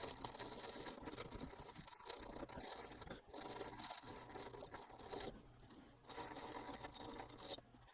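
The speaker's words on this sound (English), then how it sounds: "Let's go ahead and grab the stainless toothbrush" A stainless steel toothbrush scrubs the metal contacts inside a Magnavox VCR in a continuous, close, raspy back-and-forth scratching with brief pauses, quiet and without speech.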